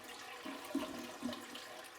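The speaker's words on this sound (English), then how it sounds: "The murky water rushes down the drain with a hissing gasp." Murky water rushing down a drain with a faint, steady hiss and gurgle, low and subdued for two seconds before a sharp knock at the end.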